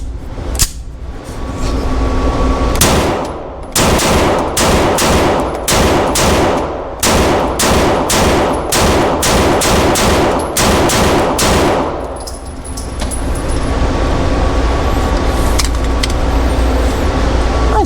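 Rapid string of loud, sharp pistol shots from a Sig Sauer P320 Flux Legion with an integrated compensator, fired in quick succession over several seconds with steady background hum between strings.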